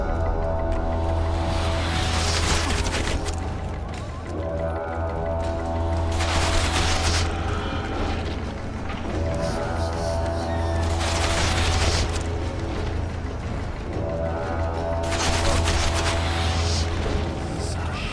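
Loud, sustained gunfire as people shoot, with repeated bursts of crackling shots swelling and fading in waves over a steady low rumble, in a continuous dense barrage.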